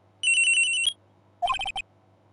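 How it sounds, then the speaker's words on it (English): A cell phone ringtone from the Ace Attorney: Trials and Tribulations video game plays clearly in two bursts: a sustained electronic trill, then after a pause a shorter, choppier run of pulsed ringing tones, with no talking. "Around 10:30 I received a call on my cell phone."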